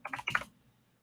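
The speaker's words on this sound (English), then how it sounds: "You can hear me typing." Quick burst of typing on a computer keyboard, about five or six crisp, close key clicks in fast succession, then the taps stop and only faint room hum remains.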